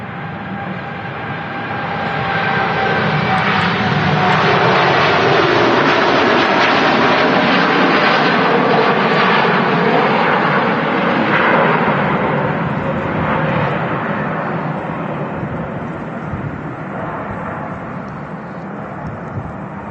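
A TUI Boeing 787 Dreamliner jet airliner roars on takeoff at Manchester Airport, a broad sustained engine rumble that swells over the first few seconds and then slowly fades, heard from a distance with no talk.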